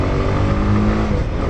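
A Honda CB150X motorcycle engine revs and accelerates up close, a loud, steady throaty drone with rising engine tone during a night ride.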